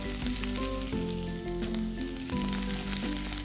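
Capsicum sizzles in hot oil with onions and slit chilies, a loud steady frying hiss broken by a few stirring clatters, with no talk.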